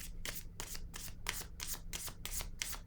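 Cards drawn from a tarot-style deck give a steady series of about eight soft, rapid papery swipes in a regular rhythm, close and quiet with no talking.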